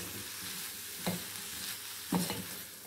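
Diced elephant foot yam curry sautéing in a pan, a steady close sizzle with two distinct scraping stirs of the spatula partway through; no talking.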